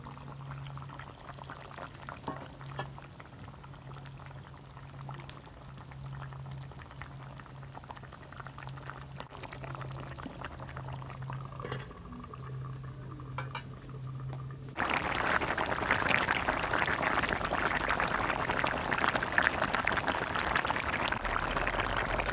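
Taro curry boils in a pot as rupchanda fish is added, giving a steady bubbling simmer close by that turns abruptly louder and more vigorous partway through, with faint utensil clinks.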